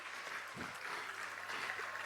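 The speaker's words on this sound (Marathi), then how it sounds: "एकदा जोरदार उत्साहवर्धक टाळ्या त्याच्यासाठी" Distant, steady applause from a school annual function audience, a soft continuous patter of many hands clapping after a solo performance, fairly faint throughout.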